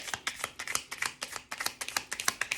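Tarot cards shuffled by hand during a reading, a quick run of crisp riffling flicks and taps, close and moderately loud, with no voices.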